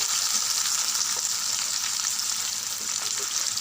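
Chopped onions, green chilies and curry leaves frying in a pan as they are stirred, giving a steady, close, hissing sizzle with soft scraping throughout.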